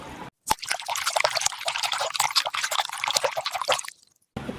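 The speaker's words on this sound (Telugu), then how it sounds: "ఒక కప్పు కంటే తక్కువ పాలు కూడా వేసుకోవాలి." Milk poured into eggless vegetarian cake batter in a home kitchen, a steady liquid pour with dripping and trickling running for about three and a half seconds, fairly close and clear, with no talking.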